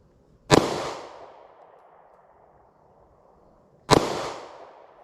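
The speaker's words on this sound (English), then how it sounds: "we're going to go ahead and give the 9mm a try now" A 9mm pistol fires at close range into a layered test wall. Two sharp, loud reports sound about three and a half seconds apart, each followed by a short fading echo, with no speech.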